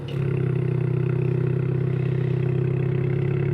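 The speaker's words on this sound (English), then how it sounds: "let's go ahead and start it up so we can hear the exhaust a little bit." A 2024 Ford Mustang EcoBoost fires up with a loud, non-quiet start, then settles into a steady, deep exhaust drone with a low rumbling idle that holds close and continuous throughout.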